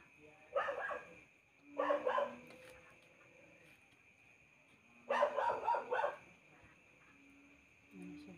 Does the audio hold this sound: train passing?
no